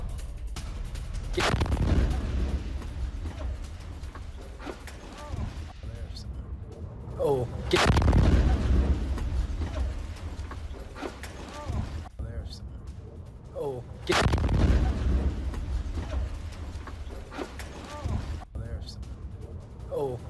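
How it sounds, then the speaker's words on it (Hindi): Iranian missiles strike a concrete US military base in the Middle East as soldiers film, three heavy booming blasts a few seconds apart with rumbling aftermath, while voices talk over the scene. "कंक्रीट बेस पर गिरी ईरानी मिसाइल, अमेरिकी सैनिकों ने बनाया हमले का वीडियो"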